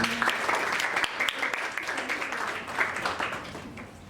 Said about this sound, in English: Can we all have a round of applause?